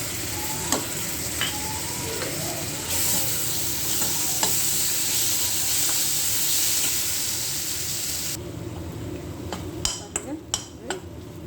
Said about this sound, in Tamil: நல்லா சிம்மில் வச்சு இதை நல்லா இந்த எண்ணெயில் வேக விடணும்